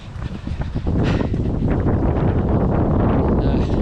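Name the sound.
breezy wind while running a marathon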